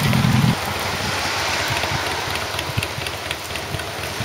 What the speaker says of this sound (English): Just starting to chuck it down with rain now.